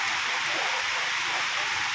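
Steady rain falls across rural countryside in the Philippines, a dense, even hiss that holds without a break for the whole two seconds, fairly close and uniform.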